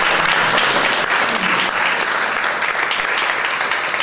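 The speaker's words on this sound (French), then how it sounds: "On peut l'applaudir." Audience applause at a Press Freedom Day event at a journalists' house, a dense, steady wash of many hands clapping, loud and close, with no voices over it.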